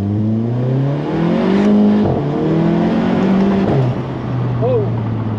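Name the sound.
Volkswagen GTI car accelerating hard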